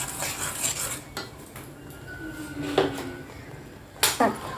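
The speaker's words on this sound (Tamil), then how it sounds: "இந்த தேங்காய் திருவுனது போட்டு இப்படி கிண்டி விடுங்க" Grated coconut being stirred in a pan: soft scraping strokes with a few sharp metallic clinks of the spoon against the pan, close and quiet, over a faint steady background.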